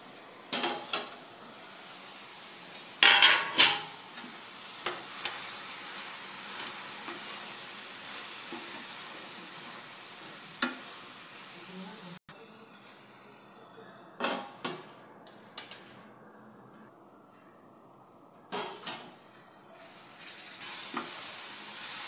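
Hadga flower vegetable frying in a pan, stirred now and then, with a constant soft sizzle broken by several sharp scraping and clattering strokes of the spoon against the pan.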